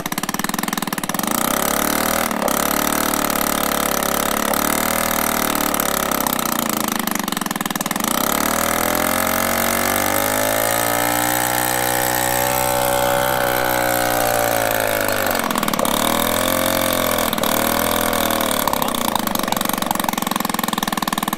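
A Peugeot 103 SPX moped's small two-stroke engine runs close and loud, its pitch rising and falling through repeated revs with one long sustained rev in the middle, no talk over it.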